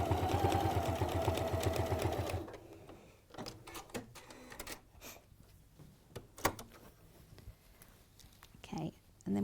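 A sewing machine stitches quilt pleats in a rapid, steady whirring run that stops after about two seconds, followed by quiet handling noises and soft talk.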